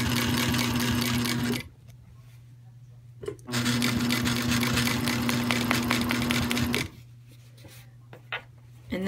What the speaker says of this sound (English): And I am top stitching.